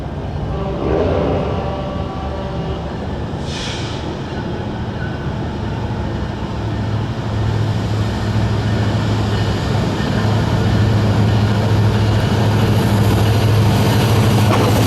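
A Norfolk Southern diesel freight train made up of empty cars rumbles steadily beneath an overpass in LaPorte, with a low, continuous roar and rail clatter throughout and no voices.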